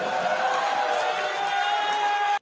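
Crowd at a comedy show breaking into steady applause and cheering, loud and sustained for a couple of seconds before cutting off abruptly.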